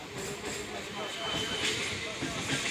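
Rolling rumble and hiss of a suburban train pulling out of a station on the Majerhat–Budge Budge line, a steady close, fairly loud noise throughout.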